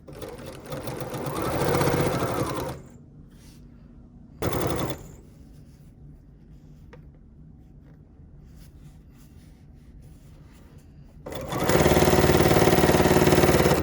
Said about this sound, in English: lining up all of my seams, and we're going to stitch these together